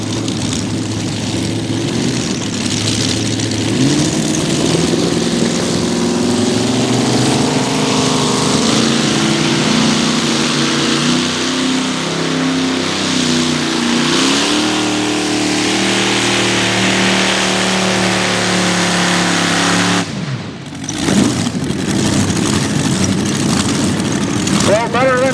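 The Chevrolet-powered pulling tractor "Attitude Adjuster" roars at full throttle in a deafening, sustained engine howl that climbs and wavers in pitch for about twenty seconds, then cuts out briefly before surging again.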